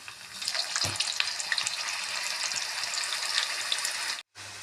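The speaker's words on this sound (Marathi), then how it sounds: "आता आपल्याला हे बटाटे यामध्ये चालू फ्राय करून घ्यायचं आहे" Potatoes for dum aloo frying in hot oil, a dense steady sizzle with crackling bursts running throughout, close and fairly loud, briefly cutting out near the end.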